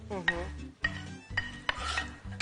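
Onions stirred and scraped in a hot pan, with soft sizzling and intermittent clinks of a utensil against the pan.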